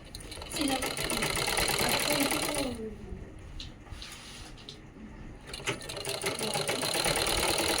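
Sewing machine stitching canvas at a garment neckline, running in loud sustained bursts with a pause in the middle, while someone talks over it.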